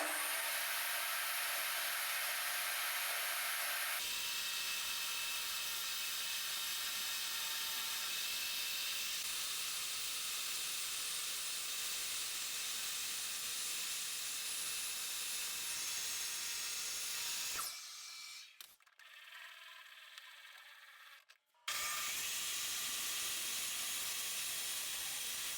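A table-mounted circular saw with a different blade fitted cuts through wood: a steady, loud high whine and hiss running for most of the time, then a sudden drop as the blade frees, and the whine returns at the end.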